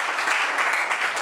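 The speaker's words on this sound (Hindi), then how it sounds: "ताली बजाकर परमेश्वर को धन्यवाद देंगे" A church congregation claps together in thanks to God, a dense, steady wash of many hands applauding at close range with no break and no talk heard above it.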